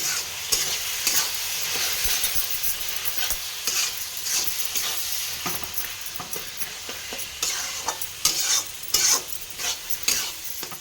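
Chicken kosha being stir-fried with spices and onions in a pan, a steady sizzle broken by repeated scraping strokes of the spoon, close and fairly loud with no talking.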